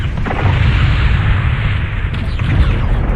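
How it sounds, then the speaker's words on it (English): Missile explosions in the mech combat game MechWarrior Online, set in the Frozen City Classic map, form a loud, dense rumble of booms that runs throughout with no speech. "Warning, incoming missile."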